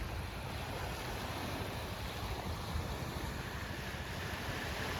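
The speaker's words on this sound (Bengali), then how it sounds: "নদীর আওয়াজ পাচ্ছ? ঢেউয়ের আওয়াজ," Continuous broad wash of water and wind, steady and even throughout, small river waves gently lapping on a riverbank at a mangrove forest on Mousuni Island, with no talking.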